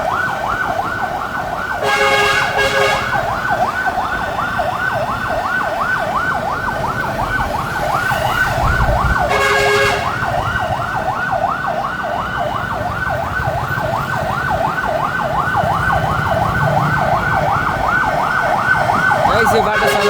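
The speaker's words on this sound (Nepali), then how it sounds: "दमकल गइरहेछ" A fire engine passes along a street with its siren wailing in a loud, steady repeating cycle, over the rumble of road traffic, with a couple of brief horn-like bursts.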